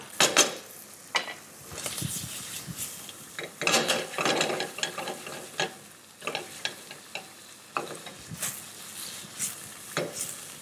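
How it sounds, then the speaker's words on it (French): Chicken livers sear and crackle in a hot pan over high heat, punctuated by scraping and stirring with a utensil, close and uneven. "Il faut que le feu soit assez fort pour que les foies soient juste saisis."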